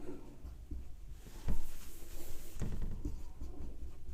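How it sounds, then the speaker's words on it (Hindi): Pen scratching across paper while notes are written in a chemistry lesson on the properties of dihydrogen, a soft continuous scraping with a few sharper taps, close and alone. "तो यहाँ पे लिखते हैं पॉइंट"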